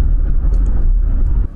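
A new car cruising smoothly along a road, a steady low engine and tire rumble with constant road noise, close and even throughout, no talking.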